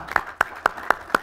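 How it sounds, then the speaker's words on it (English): Council meeting audience gives five slow, evenly spaced claps, each a sharp distinct smack close to the mic with brief quiet between. "And I'd like to give you a clap."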